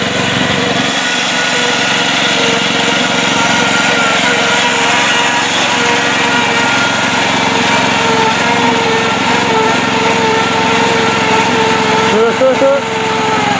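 A Mastercraft tractor drives through a mucky mud hole, its engine droning loud and close with a whining, noisy transmission, holding steady before the pitch shifts near the end as it bogs down.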